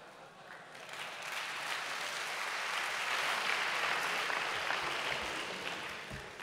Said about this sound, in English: It's amazing what you can get claps for at this audience.